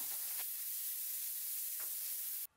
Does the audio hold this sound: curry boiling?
yes